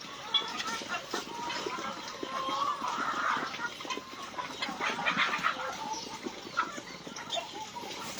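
Chickens on a small farm give scattered clucks and calls at moderate distance over a soft, busy background, with faint talk now and then.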